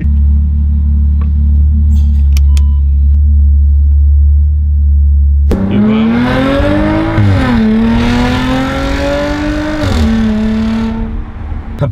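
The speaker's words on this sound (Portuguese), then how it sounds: "Olha só o barulho desse carro." Loud, close car engine rumbling at idle, then revving up with rising and falling pitch as it accelerates, no talking.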